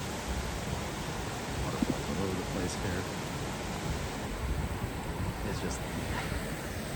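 A steady roar of rushing waterfalls in an Icelandic valley fills the scene, broad and constant, with a person speaking briefly over it.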